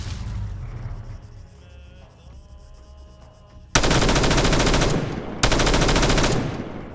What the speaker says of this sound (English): That is a fast-firing MG